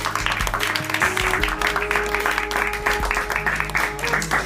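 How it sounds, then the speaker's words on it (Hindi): Applause at a school-style prize distribution ceremony, steady and moderately loud, mixed with a low hum and tonal background sounds from the hall's sound system. "इन सभी के लिए जोरदार तालियां।"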